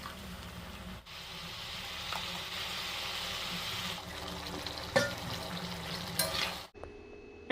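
Egg curry cooks in a hot wok, giving a steady, moderately quiet sizzle with stirring clatter, a sharp clank near the five-second mark, and a short dip before the end.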